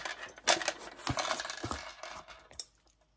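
Loose plastic legs rattling inside a pink tissue box, giving a close, light clinking and jostling rattle with a sharp knock at the start and another near the end before fading out.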